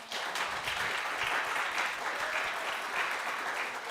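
An audience applauds at a Tuesday night jazz concert held in a church, even sustained clapping from a room full of people, moderately loud and continuous.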